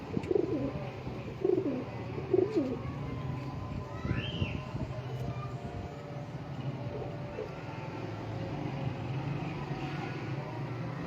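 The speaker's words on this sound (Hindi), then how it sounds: "क्या बात है टैडी कबूतर माशाल्लाह" Pigeons cooing close by, three soft rolling coos in the first few seconds over a steady background hum of traffic, with a brief higher call midway.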